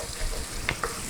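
Sausage, tomatoes and olive oil sizzle and fry steadily in a pan as they are stirred, a continuous crackle with a couple of small scraping knocks from the spoon.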